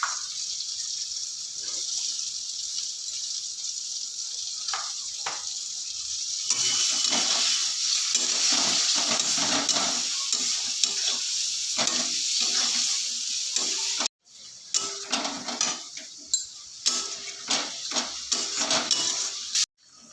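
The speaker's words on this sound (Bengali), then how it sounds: "মাছের ঝোলটা আমার একদম ফুটে গেছে" Hilsa fish curry broth boiling in a pan while being stirred: a continuous hissing, sizzling bubble, then a brief break followed by clinks of utensils and stirring scrapes, close up.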